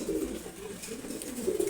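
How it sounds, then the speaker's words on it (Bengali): A grizzle pigeon coos in soft, low rolling notes, with two fuller swells at the start and end, heard close against a steady background hum. "দেখেন, এটা হচ্ছে গ্রিজেল কবুতর।"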